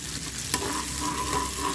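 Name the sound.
onion added to hot oil, frying in a pan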